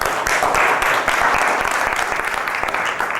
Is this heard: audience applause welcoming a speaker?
yes